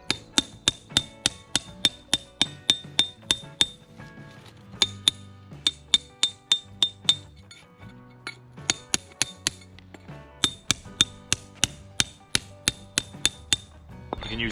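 Plug and chisel driven with a hammer to knock out hard mortar joints on a patio: sharp, ringing metallic strikes in steady rapid runs, close and loud, broken by short pauses between bursts.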